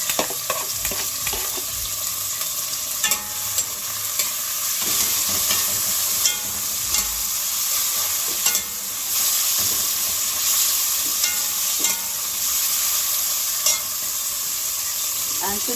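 Callaloo with saltfish fries in a pot, a constant bright sizzle and hiss with recurring scrapes and clacks as it is stirred, close up and with no talk.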